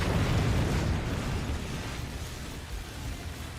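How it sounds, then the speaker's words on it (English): A howitzer shell explodes in the strategy game Forts: a dense, rumbling burst that starts loud and decays slowly into a long, noisy roar, with no voices. "Howitzer, not mortar."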